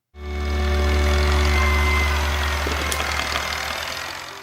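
Farmall Cub tractor engine starting and running, a small farm engine that kicks in abruptly and settles into a steady, loud low-pitched idle with a slight knocking rumble.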